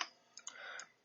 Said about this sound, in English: Just typing that in.